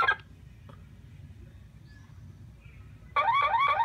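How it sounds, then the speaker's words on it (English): A Dodge Ram's car alarm starts up loud and close in the last second, a warbling siren tone after a quiet stretch with only low rumble and a brief chirp near the start. "The alarm."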